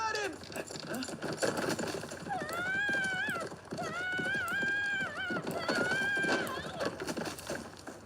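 A horse's hooves clip-clop steadily while it whinnies and neighs loudly several times, with brief stretches of a rising, wavering call in the middle.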